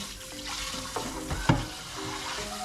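Dishes being washed at a home kitchen sink after a meal: running tap water with scattered clinks and knocks of crockery, close and steady with no talk.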